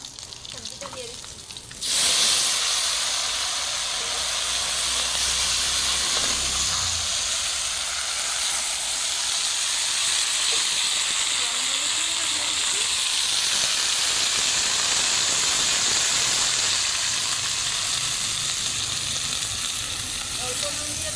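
Vegetables dropped into hot oil in a pan for labra, a mixed vegetable dish cooked with bay leaf and panch phoron, set off a loud, steady hiss and sizzle that begins abruptly and continues without a break, with faint voices in the background.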